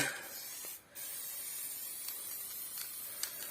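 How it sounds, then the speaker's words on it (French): An old aerosol spray paint can sprays in a steady, close hiss for several seconds with a brief break, in an airy spot while making a small game from recycled materials. "pour pouvoir mettre un petit coup de bombe là-dessus"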